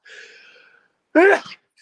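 A single sharp sneeze bursts out close up, preceded by a brief stretch of quiet talking.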